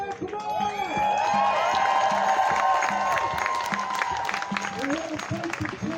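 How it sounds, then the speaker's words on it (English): Crowd at a Toronto protest cheering and shouting loudly and continuously, with whoops and whistles rising over a dense roar of many voices close by. "Please let me hear everybody cheer."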